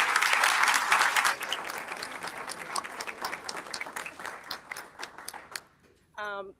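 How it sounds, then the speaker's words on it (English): Audience applause at a school district board of education meeting, loud and dense at first, then thinning into scattered individual claps that fade out, followed by a brief voice at the very end. "Can we give them another round of applause because it takes a lot?"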